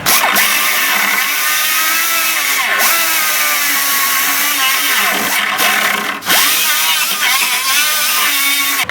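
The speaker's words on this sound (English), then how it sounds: "I even take a carbide burr and put the holes back in." A carbide burr on a rotary tool grinds holes into the quarter panel of a 1995 Mazda, giving a loud, close, continuous high-pitched whine with brief dips and surges as the tool bites into the metal.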